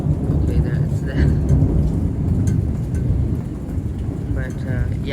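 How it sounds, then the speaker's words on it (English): A July rainstorm at Playa del Carmen, Mexico: steady, dense rainfall with a continuous low rumble of thunder, loud and close. "you can see how the rains are becoming less. There's less thunder."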